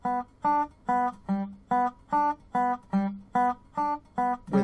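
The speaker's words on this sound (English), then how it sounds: "If we were using the blocking technique, it would sound like this." Detached slide notes on a dobro using the blocking technique, a steady run of about eleven short, clean plucked tones, each cut off before the next so nothing rings over, played close with no voices.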